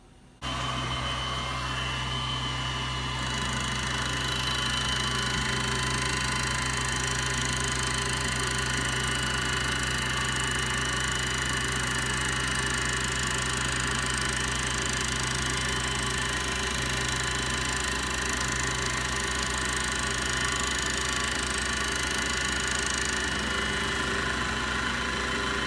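Milling machine with a Superfly fly cutter squaring up metal stock, 9 thousandths cut: steady loud machine hum with a continuous whirring drone throughout, no talking.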